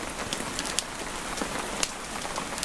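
Soft, steady rainfall patters as a continuous hiss with scattered close droplet ticks, quiet and even, with no voices.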